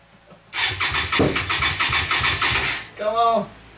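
An old car engine from a scrap yard, primed with starter fluid in the carburetor, cranks in a fast rhythmic chug for about two and a half seconds without catching, then a voice briefly speaks close by.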